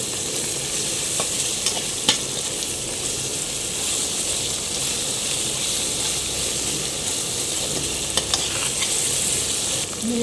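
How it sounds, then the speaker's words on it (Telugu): Ginger garlic paste stirred into a pan of frying mushrooms and onions for a curry, a steady close sizzle with occasional spoon scrapes and clinks running throughout. "ఇప్పుడు ఇందులో అల్లం వెల్లుల్లి పేస్ట్ వేసుకుందాము. వేసుకుని మిక్స్ చేసుకుని మగ్గించుకుందాం."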